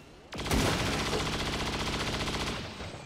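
Sustained automatic gunfire from XCOM 2: War of the Chosen, a loud rapid burst of machine-gun fire starting abruptly and rattling steadily for over two seconds before cutting off, with no talk over it.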